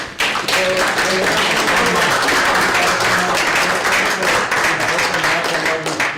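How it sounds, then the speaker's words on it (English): An audience at a live talk show mixing spirituality and comedy gives a big round of applause, loud, dense clapping sustained for several seconds with voices heard through it. "big round of applause for."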